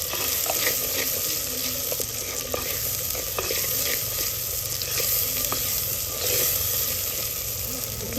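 Chili, cumin and turmeric frying in hot oil in a pan for Gujarati Panchratna dal, a loud continuous close sizzle with crackles and occasional stirring scrapes, no voices.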